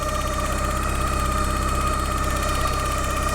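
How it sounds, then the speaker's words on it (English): A dry, fluid-starved power steering pump on a Porsche 944 whines steadily as the engine idles, a constant loud drone with layered tonal hums and no talking over it. "that is quite noisy. I think that's the power steering pump."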